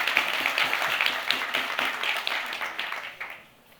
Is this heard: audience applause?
yes